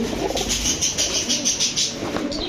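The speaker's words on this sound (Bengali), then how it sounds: "দর্শক এটাও কালদম নর কবুতর" Kaldam male pigeons cooing in repeated soft, throaty pulses, close and steady, with a faint background hum and no talk.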